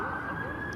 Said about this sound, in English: sirens going by here, fire truck.